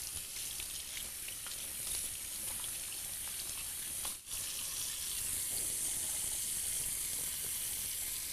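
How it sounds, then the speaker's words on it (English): Canned dark red kidney beans being rinsed under a cold kitchen tap, a steady hissing rush of running water, close and continuous with one brief dip midway, no voices. "just rinse them under cold water"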